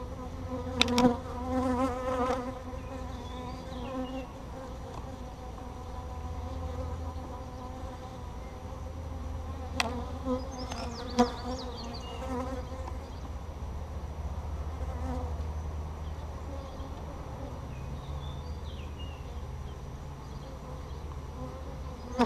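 Bees buzz continuously during a hive inspection, a close, steady droning hum with a few louder passes and occasional clicks of handling.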